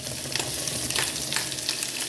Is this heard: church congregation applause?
no